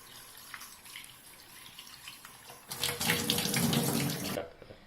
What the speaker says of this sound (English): so now we have washed the rice and dal 2-3 times